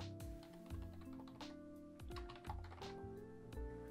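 A computer keyboard is typed on in short irregular bursts of faint, close clicking keystrokes, with no voice over them.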